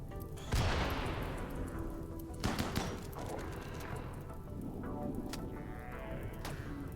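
Colonists open fire on Diablos in the video game Rimworld, a burst of sharp game gunshots and thudding impacts over a dense, rumbling battle background, with a few louder cracks standing out.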